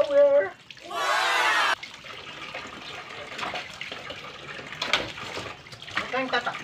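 A brief burst of spraying shower water while a pet dog is bathed, loud and steady for under a second before giving way to people talking over faint splashing.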